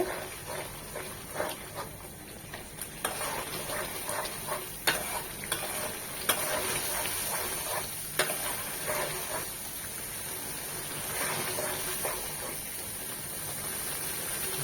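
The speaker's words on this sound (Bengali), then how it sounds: "মশলাটাকে খুব ভালোভাবে ধৈর্য সহকারে কষিয়ে নিতে হবে" Spice masala sautéing in hot oil in a pan for a Bengali doi katla fish curry, with a steady close sizzle and repeated scraping stirs throughout, no talking.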